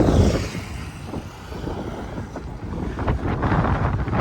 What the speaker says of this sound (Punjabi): ਆ ਦੇਖੋ ਕਿਹੜਾ ਲੋਟ ਹਵਾ ਚੱਲੀ ਆ